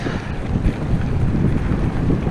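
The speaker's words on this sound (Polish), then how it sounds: "Mocny wiatr, że nawet jadąc z górki nie mogę się rozpędzić." Strong wind buffets a microphone in loud, gusting low rumbles while cycling downhill, continuous throughout with no voices.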